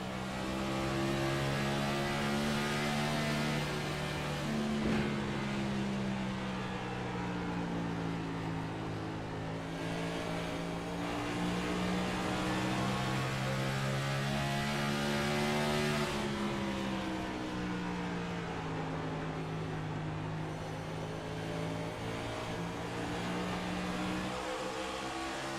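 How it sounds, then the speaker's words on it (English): An onboard race car engine runs at steady high revs around the Iowa oval, its droning tone rising and dipping slightly with throttle lift and squeeze, loud and continuous throughout with no voices. "Let's listen to this car and the throttle control it takes to really be quick here."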